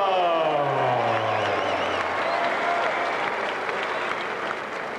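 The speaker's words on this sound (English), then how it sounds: "let's hear it for Tsuyoshi Kosaka." A mixed martial arts event crowd breaking into steady, loud applause and some cheering for a fighter's introduction, filling the hall as the announcer's voice trails off at the start.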